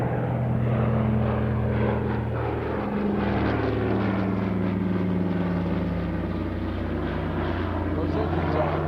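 Consolidated PBY Catalina flying boat with twin 1,830-cubic-inch two-row, 14-cylinder radial engines, a steady, loud propeller drone with shifting tonal hum, close and continuous throughout, with a voice faintly talking over it.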